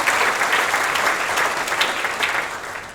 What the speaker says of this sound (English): Round of applause for all our helpers today